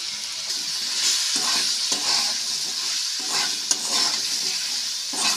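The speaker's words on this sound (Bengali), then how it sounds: "লবণ হলুদ দিয়ে আবার একটা আলুগুলো ভালোভাবে নাড়াচাড়া করে নিচ্ছি" Potato pieces seasoned with salt and turmeric fry in a pan with a continuous sizzle. A spoon stirs them in repeated scraping strokes, close by and fairly loud, with no talking.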